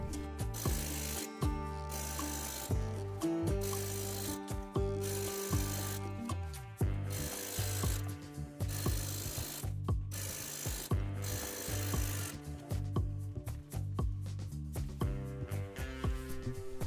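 Sewing machine topstitching around facing seam allowances on a dress, running in steady rhythmic bursts of stitching with brief pauses between runs, close and continuous.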